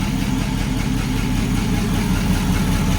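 A 1949 Ford Shoebox car engine idles steadily at close range, a continuous low, even rumble with a smooth rhythmic pulse and no talk over it.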